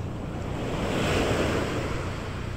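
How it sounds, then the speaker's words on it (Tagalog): Heavy ocean waves wash onto the beach in a continuous roaring surge, with wind rushing across the microphone. "malakas ang alon"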